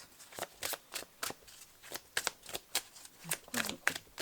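Cards being shuffled before drawing one, a close run of quick riffling bursts in an uneven rhythm, mostly on their own with faint speech now and then.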